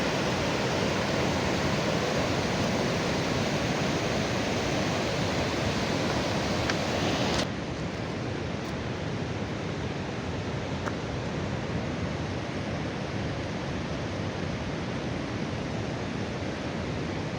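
A river flows strongly outdoors, giving a loud, steady, broadband rush that continues without a break and with no talk.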